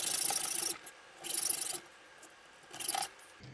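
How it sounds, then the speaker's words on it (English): A hacksaw cuts through metal stock while making lockpicks, giving three separate bursts of rasping strokes with short quiet gaps between them. The sawing is close and fairly faint, with no talk. "just because we're using the hacksaw doesn't mean we're not creating heat"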